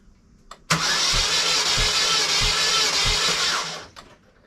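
A car engine cranks over steadily on the starter during a compression test on cylinder 3, with low compression suspected; a loud, continuous whirring grind with an even rhythmic pulse runs for about three seconds, then stops.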